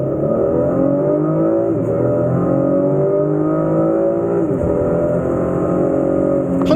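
Cadillac CT6 3.6 sedan under full acceleration in a timed run, engine droning loudly and climbing in pitch, with two brief gear-change dips before rising again, heard from inside the cabin.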